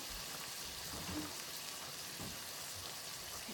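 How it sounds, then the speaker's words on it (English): Vegetable stock, about half a cup, poured into a hot pan of spaghetti noodles, giving a steady close sizzle and bubbling hiss that holds evenly throughout, with no voices. "I'm going to add just a little bit, about a half a cup of vegetable stock."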